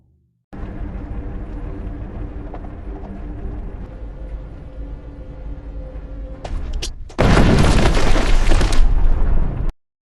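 A film scene on a horse trail begins with rumbling hoofbeats and movement. A sudden loud landmine blast then bursts in and roars for a few seconds before cutting off abruptly.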